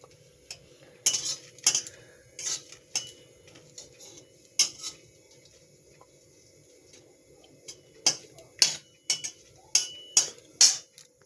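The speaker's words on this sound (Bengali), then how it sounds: "প্রথমে শুকনো কড়াতে শুকনো লঙ্কা 5টা দিয়েছি, এটা একটুখানি ভেজে নিচ্ছি" Dried red chillies dry-roasting in a wok, with a utensil stirring and scraping in irregular clusters of sharp metallic clinks and taps, close and fairly quiet, and a pause midway.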